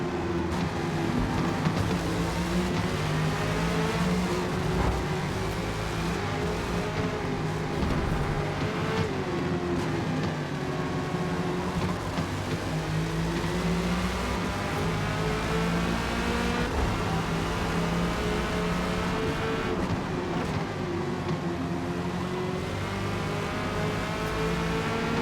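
A Corvette C8.R race car lapping Mid-Ohio in a racing video game, its engine droning loud and continuous with rising and falling pitch as it accelerates and lifts through the corners, no speech over it.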